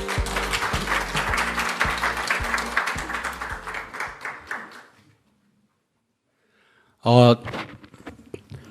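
At an academic award ceremony, an audience applauds a professor invited to give a lecture, with steady clapping for about four seconds that fades into silence, followed by a brief, sharp sound and then speech.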